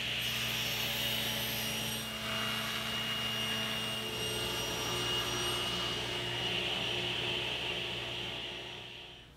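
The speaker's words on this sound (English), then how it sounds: "I'll get started by ripping the board at 1 3/8 inches" A saw rips lengthwise through a wooden board, cutting it down to a 1 3/8 inch strip for picture-frame molding; the steady, loud whine holds for the full length with a slight dip midway.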